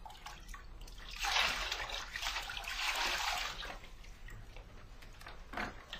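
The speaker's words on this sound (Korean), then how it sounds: "그 물을 움켜서 몸에 조금씩 끼얹어 보았다" Water splashes and trickles in a bathtub with floating flower petals, scooped up and poured over the body in soft, uneven bursts, fairly close and fading to a gentle dribble, with no voices.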